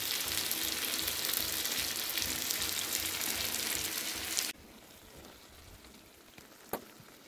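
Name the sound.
chicken kosha frying and being stirred in oil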